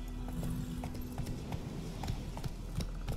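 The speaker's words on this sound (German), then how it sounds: "Zum Glück kann Gerard sich unterwegs stets auf seinem Pferd Plötze verlassen." Steady clip-clop of horse hooves at a walking pace in the video game The Witcher 3: Wild Hunt, evenly spaced, over a low constant background hum.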